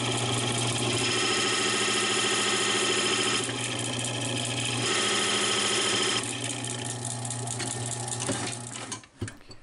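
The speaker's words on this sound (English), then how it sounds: "I use a Forstner bit to square the base of the wood." A steady lathe hum with a low mechanical drone runs throughout, joined by a grinding cutting sound as a Forstner bit squares the base of wood, shifting partway through, then winding down at the end.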